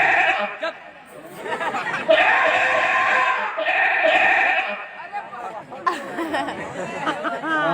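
A captured goat bleats repeatedly at close range in a rural village setting, its wavering cries overlapping with lively chatter from several people nearby.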